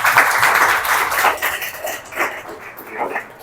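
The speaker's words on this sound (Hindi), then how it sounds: "तालियां हो जाए एक बार फिर" Students in a tenth-grade class at a school clap together in a short round of applause that fades after a few seconds, with a voice speaking over it.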